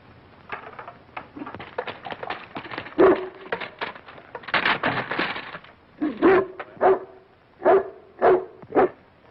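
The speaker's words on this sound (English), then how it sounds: "It's a dog." A dog in a car barks in a 1936 comedy film, with scattered yaps building into a run of sharp, evenly spaced barks at close range.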